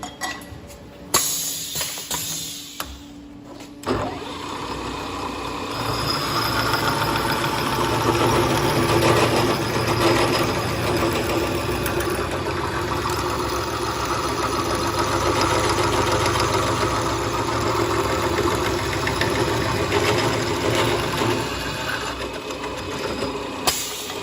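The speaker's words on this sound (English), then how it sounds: "we're gonna do the miter for the C-tube to fit it on the jig." Machine cutting a miter on a bicycle frame tube in a bike-building workshop, a loud steady mechanical whir and grind that runs continuously after a few clanks at the start.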